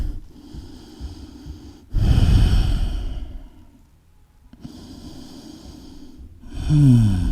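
Slow, deep breaths taken while resting in a yoga forward fold, each long exhale sighing out close and soft, with quiet pauses between and a sharper nasal breath near the end.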